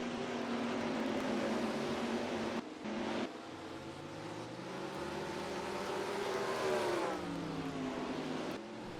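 Race cars on pit road in NASCAR Racing 2003 at Nazareth: a steady engine drone with rising and falling revs as cars pull through their pit stops, continuous and moderately loud with no talk.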